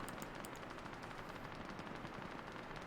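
Rapid machine gun fire in an online video game, a dense continuous rattle of shots at moderate loudness with no pauses.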